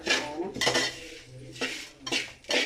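A spoon stirs curry leaves roasting in a metal pan for chammanthi podi, giving repeated clanks and scrapes against the pan over a faint background.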